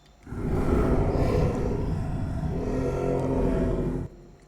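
A long, rumbling roar-like call from a Yohsog creature in the game Creatures of Sonaria swells and holds for several seconds before cutting off abruptly.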